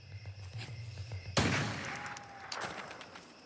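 A single sharp gunshot cracks out loudly, followed by a ringing echo that fades away, over quiet background noise.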